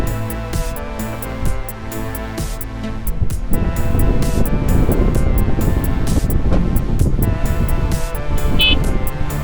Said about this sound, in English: Even in tour mode, just a sliver of throttle is more than enough to get this bike moving.